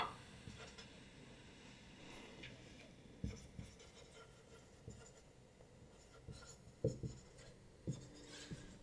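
Chalk or marker scratching across a board during a physics lesson on heat, work and internal energy, with faint irregular strokes and taps spaced through the stretch, fairly quiet and without speech.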